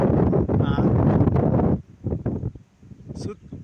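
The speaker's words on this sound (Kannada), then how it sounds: "ಆಷಾಢ ಮಾಸ ಒಳ್ಳೆ ಗಾಳಿ ಬೀಸ್ತಾ ಇದೆ" Strong wind gusts across an open green hilltop near Madhugiri during the monsoon month, a loud buffeting rumble that eases after about two seconds into softer gusts, with brief talking.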